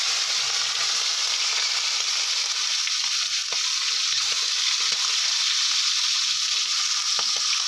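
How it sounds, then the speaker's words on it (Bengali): Fish (baim eel) frying in hot mustard oil for a bottle gourd curry, a steady, dense close sizzle with faint crackles and pops, continuous throughout with no talking. "এবার আমি মাছগুলো ভেজে নেব।"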